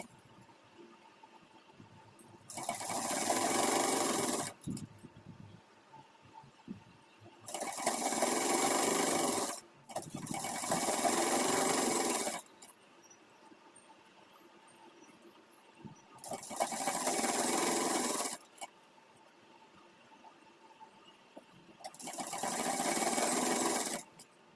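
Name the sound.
sewing machine stitching along edges of Afghani salwar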